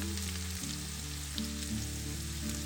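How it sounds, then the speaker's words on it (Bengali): Garlic, onion and chillies fry in oil with a soft, even sizzle, fairly quiet and close, beneath background music, with no speech. "এই রসুন, পেঁয়াজ এবং মরিচগুলো বেশ কিছুটা সময় আমরা ভেজে নিয়েছি, আরও কিছুটা সময় ভাজতে হবে।"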